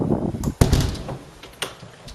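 A cellar door in a house near Châtellerault opening, with a heavy thud and a rumbling slide followed by lighter knocks and clicks, close and fairly loud.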